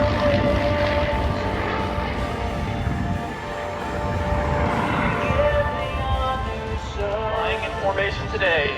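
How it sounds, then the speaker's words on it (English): World War II era P-51 Mustang flying at the 2024 Rochester, NY airshow, a continuous droning engine tone with shifting pitch throughout, loud and fairly near, with an announcer talking over it. "today is Tim Beasley Jr. in a beautiful World War II era P-51 Mustang"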